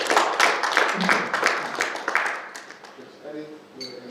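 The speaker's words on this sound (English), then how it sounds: "Can we please give him a round of applause?" Audience applause for a speaker at an investment and trade forum, a burst of clapping that fades out after about three seconds, followed by quieter room sounds and a brief tone.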